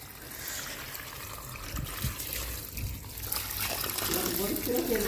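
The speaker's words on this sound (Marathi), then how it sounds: "पाणी चालू केलं आता" Water runs from a tap in a steady trickling flow, with a voice and some handling noises in the background.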